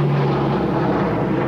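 A Lockheed C-130 Hercules passes overhead, a loud continuous propeller drone with a steady low hum that holds evenly across the moment, heard from near a parked 2019 Mitsubishi Triton.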